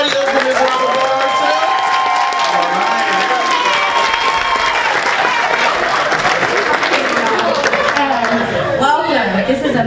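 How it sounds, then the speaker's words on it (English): Conference crowd applauding and cheering, dense sustained clapping with whoops, shouts and chatter mixed in, loud and continuous throughout. "can we get a huge round of applause"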